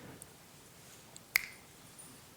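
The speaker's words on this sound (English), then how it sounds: "I snap my fingers" A single sharp finger snap lands near the middle, crisp and close in an otherwise quiet room with faint background hiss and a couple of tiny ticks.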